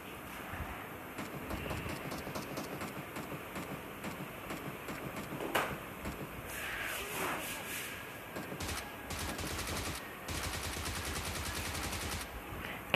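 Rapid bursts of automatic submachine gun fire, a Bizon, from a video game, rattling in short volleys over a busy, noisy background.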